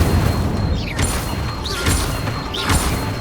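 Spell casting in Hogwarts Legacy, three whooshing bursts with rising magical swishes, each followed by a booming impact, spaced about a second apart over continuous low rumble.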